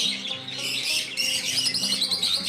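Many small colourful birds chirp and squawk at once, a dense, busy chorus of high calls running unbroken and close, with no talking.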